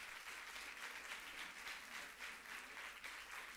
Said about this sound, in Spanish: merecidísimo el aplauso para Lucrecia